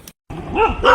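A dog barks once close by, a short rough bark after a brief silence, with outdoor noise around it.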